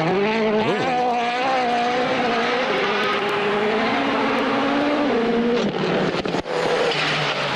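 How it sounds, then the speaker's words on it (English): A rally car engine at Safari Rally Kenya roars loudly and continuously up close, its pitch rising and holding under high revs, then dipping briefly as it shifts, with no talking. "This car sounds so sick."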